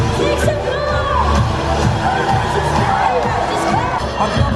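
A crowd at a Universal Studios Singapore street performance cheers and shouts continuously over loud, thumping music, with whoops rising above a dense, busy mix that never drops away.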